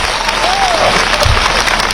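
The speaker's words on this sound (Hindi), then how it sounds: "एक बार जोर से ताली बजाइए यहां से लेकर वहां तक" A large crowd at a political rally in Lohardaga, Jharkhand claps loudly and continuously, a dense roar of applause with a brief voice rising over it.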